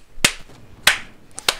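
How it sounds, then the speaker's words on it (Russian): Hands clap sarcastically in four separate sharp claps, close and dry, with uneven gaps and the last two nearly back to back. No one speaks. "Надеюсь, вам слышно, как я вам аплодирую."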